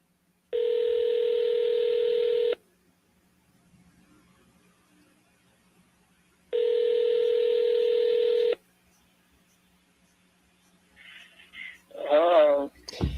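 Touch-tone phone dialing while calling a seller: two long, steady dial-tone-like bursts separated by a quiet pause, followed by a short voice answering faintly at the end.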